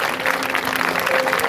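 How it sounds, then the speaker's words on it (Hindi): Loud, dense applause fills a church prayer service at Railway Road CNI Church in Karnal during a peace rally, a crowd clapping continuously over a faint sustained tone. "इसके लिए जोरदार तालियां बजाएं"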